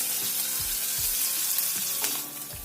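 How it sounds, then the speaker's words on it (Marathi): Garlic and green chilies frying in a pan give a soft, continuous sizzle close by, broken by a few low thumps of stirring, moderately quiet with no speech. "लसूण तुमच्या आवडीप्रमाणे घेऊ शकता त्याच्यानंतर हिरवी मिरची चवीनुसार थोडंसं याला फ्राय करायचं"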